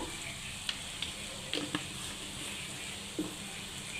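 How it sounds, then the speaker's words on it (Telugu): Coriander, cinnamon and clove powder frying in a pan while chicken pickle is made, a steady close hiss of sizzling with a few brief scraping stirs and small pops. "కొంచెం ఇట్లా ఫ్రై చేసుకొని స్టవ్ ఆఫ్ చేసుకుందాము"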